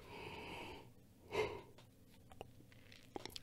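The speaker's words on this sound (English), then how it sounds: "I'm going to yawn." A single drawn-out yawn rises to a brief breathy peak partway through, with soft breathing before and faint small noises after, alone with no speech.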